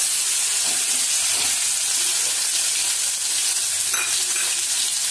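Banana flower chutney hits smoking hot mustard oil in an iron wok and sets off a loud, steady, close sizzle and hiss that carries on without a break, with faint stirring underneath.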